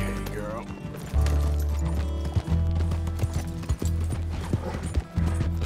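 Rapid rhythmic hoofbeats of a galloping horse in the video game Red Dead Redemption 2, loud and close, with a voice shouting over the pounding.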